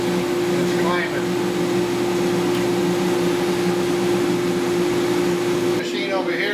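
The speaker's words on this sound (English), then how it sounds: "The machine over here is an afterburner. It just burns the smoke." A coffee roaster's afterburner, which burns off roasting smoke, runs as a steady mechanical drone with a constant tonal hum. It sounds close and loud throughout, with faint voices briefly in the background.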